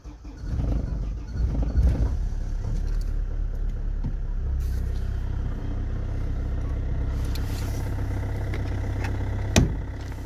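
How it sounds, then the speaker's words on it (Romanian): A car engine turns over and settles into a steady idle, a continuous low rumble running close and loud through the whole stretch, with a brief knock near the end. "dăm drumul la motor"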